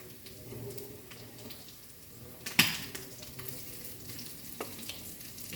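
Mandeli fish, anchovies, frying in a pan with onions: a soft continuous sizzle with light stirring scrapes and one sharp utensil clank midway.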